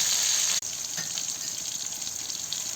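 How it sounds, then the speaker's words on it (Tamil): Water is poured into a brinjal and chickpea kara kuzhambu simmering in a pan at a village kitchen, a steady close hiss and sizzle with a brief break near the start and no talk. "இதுக்கு தேவையான அளவு தண்ணியும் ஆட் பண்ணி மிக்ஸ் பண்ணிக்கலாம்."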